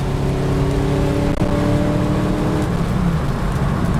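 A car engine pulls steadily under acceleration, a sustained drone with harmonic tones holding level before shifting, loud and close throughout with no voices.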